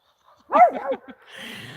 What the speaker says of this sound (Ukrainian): Мій песик теж має красивий голос.